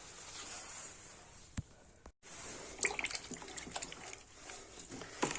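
Water runs and trickles steadily into a bowl of soaking black milk mushrooms, with splashy bursts and a brief pause partway through; fairly quiet and close.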